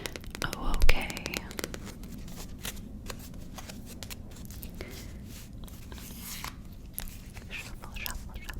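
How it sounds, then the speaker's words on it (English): Tarot cards being shuffled close to the microphone, giving soft repeated riffling and papery flicks with one sharper snap near the start, under quiet whispered speech. "Shuffle, shuffle, shuffle, shuffle."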